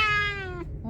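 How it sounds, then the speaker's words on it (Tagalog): A cat gives a single drawn-out meow that falls in pitch and fades, close to the microphone, followed by a brief softer cry at the end. "Meow."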